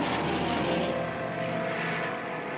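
A model plane confronting a model King Kong in a film scene drones with a steady, loud propeller-engine hum that holds evenly throughout, with no voices.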